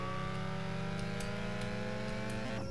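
A video game car engine hums steadily and revs under acceleration as the vehicle speeds away, loud and close, with no talking.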